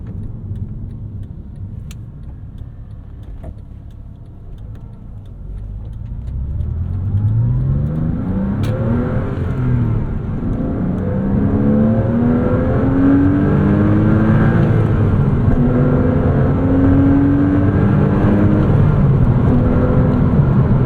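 A 2006 Porsche Cayman S engine pulls through the gears on the road, rising sweeps of revs climbing and dropping with each shift, loud and steady beneath a constant cabin rumble with no talking.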